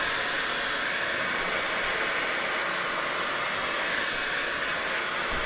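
A hair dryer blows hair out during a blow-out styling session, a steady loud broadband whoosh that runs without a break.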